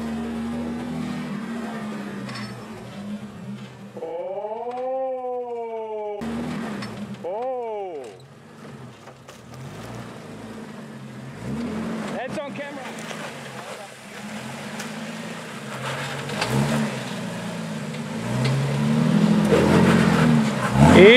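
A 4x4 off-road vehicle climbs back up a forest track in Ourimbah State Forest, its engine rising and falling in pitch as it revs, then growing louder and rougher toward the end, with voices talking over it.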